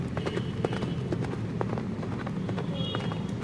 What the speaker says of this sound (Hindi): अब राजा घोड़े पे सवार होकर मरोड़गंज के जंगलों की तरफ बढ़ने लगा।